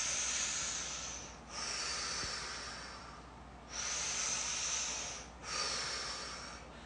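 Slow, deep breaths during a finger-pull stretch, close and hissing, with two long exhales alternating with quieter inhales and no talking.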